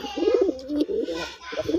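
A pair of red Golla pigeons coo close by in soft, throaty, repeated rolling calls that run almost without a break.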